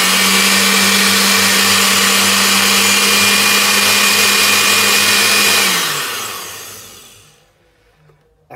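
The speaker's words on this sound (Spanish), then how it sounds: "Todo esto lo vamos a licuar con la licuadora." A kitchen blender runs loud and steady, whirring mandarins and four whole eggs into a purée for a mandarin cake, then winds down and spins to a stop after about six seconds.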